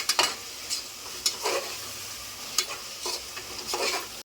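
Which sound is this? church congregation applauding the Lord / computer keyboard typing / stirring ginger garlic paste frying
stirring ginger garlic paste frying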